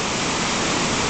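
Swollen Little Pigeon River in the Great Smoky Mountains rushing high under a bridge after two days of rain, a loud, steady, dense roar of churning water filling the whole clip with no pauses.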